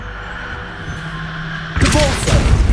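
A Bombarda spell explodes in Hogwarts Legacy, a sudden loud crackling blast with a lingering rumble that cuts into a quieter droning background in the last second.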